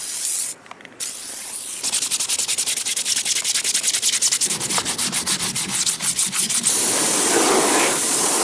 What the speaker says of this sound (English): I'm going to use Brake Through to clean the wall of the tyre